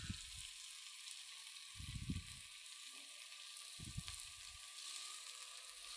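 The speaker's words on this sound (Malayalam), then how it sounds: "മുട്ട പൊരിക്കണ പോലെ പൊരിച്ചെടുക്കുക." Beaten egg poured over a spiced masala sizzles and fries in a pan, giving a steady faint hiss with soft low bumps from stirring, no talking.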